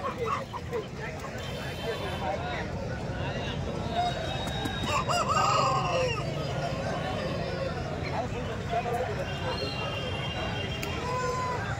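A rooster crows a few times at moderate distance, with clucking hens and muffled voices in the background.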